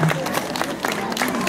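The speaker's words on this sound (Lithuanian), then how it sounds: "Jūsų plojimai." Audience at a 2015 harvest festival applauding, a dense, steady wash of clapping from a crowd that holds for the whole moment, with faint voices mixed in.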